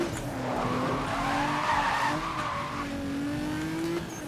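A Nissan GT-R driven in the game Need for Speed Most Wanted (2012), its engine droning steadily with a rising and falling pitch as it accelerates, along with tire squeal and skidding, loud and close, with no voices.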